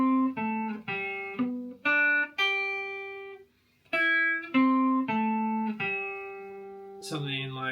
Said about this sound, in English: Like if you're just doing arpeggios, it might sound something like this.